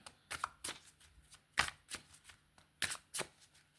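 Quiet, sparse slaps and flicks of tarot cards being laid down on a surface, one at a time with irregular pauses between them.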